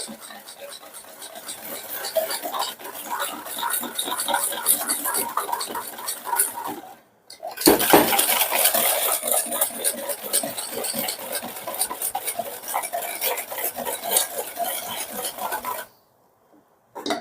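Sugar whisked in a bowl to blanch it for a plain or Pyrenean blueberry tourte, a fast continuous scratching and tapping of whisk on bowl, broken by a short pause and cutting off near the end.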